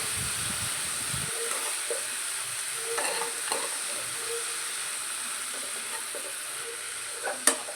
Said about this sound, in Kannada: ನೆಕ್ಸ್ಟು ನಾವು ಸಬ್ಸಿಗೆ ಸೊಪ್ಪನ್ನ ಹಾಕೋಬೇಕು ಹಾಕ್ಕೊಂಡು ಇದನ್ನು ಕೂಡ ಫ್ರೈ ಮಾಡ್ಕೋಬೇಕು ನೀಟಾಗಿ